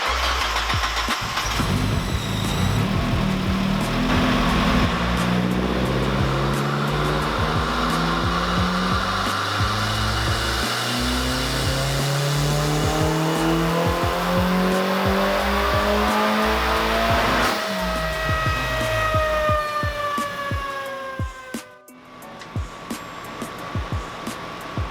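A VVT turbocharged Mazda Miata on a dyno runs long, loud pulls, the engine note climbing steadily in pitch through the revs before the throttle lifts and the sound drops off abruptly near the end.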